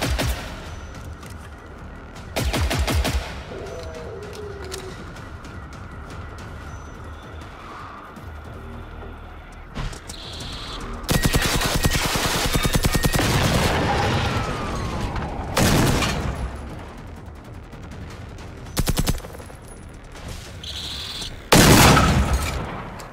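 Loud bursts of gunfire from the video game Generation Zero ring out in several separate volleys, some rapid and sustained, others short, over a steady low ambient hum with booming impacts mixed in.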